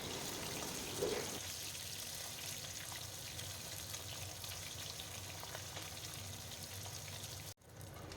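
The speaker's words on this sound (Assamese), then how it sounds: "এই মাছ কেইপিচ ওলুটিয়াই পলুটিয়াই অলপ ফ্ৰাই কৰি ল'লে হ'ল" Pieces of fish shallow-frying in hot oil for a jackfruit seed curry, giving a steady, close crackling sizzle throughout with a brief louder bubble near the start and a short dip just before the end.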